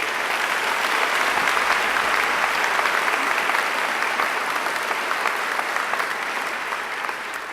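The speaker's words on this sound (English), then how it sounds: "I think Angela deserves another great round of applause." A large audience in a graduation ceremony hall bursts into loud, sustained applause, a thick, even roar of clapping that holds steady and fades a little toward the end.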